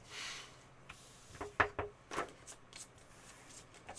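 Playing cards being shuffled and handled at a board game table, with quiet riffles and soft papery taps in short irregular bursts, close and faint, with no talking.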